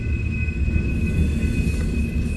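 Rumbling freight train with steel wheels rolling past at night at BNSF Hobson Yard in Lincoln, Nebraska, a steady low roar with a thin tonal whine above, close and continuous.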